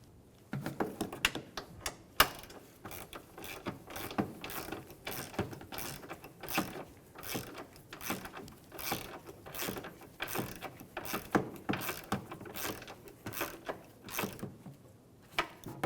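A 15mm socket ratchet snugs down strut nuts on a 2003-2008 Honda Pilot, producing a long run of rapid, even clicking pawl ticks, close and fairly quiet, with no talk.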